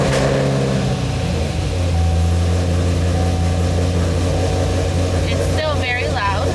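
Supercharged Camaro SS V8 turning over and settling into a loud, steady idle close by, with the exhaust cutout shut.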